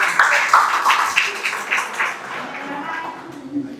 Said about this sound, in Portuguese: Pode aplaudir o Senhor pela vida dele.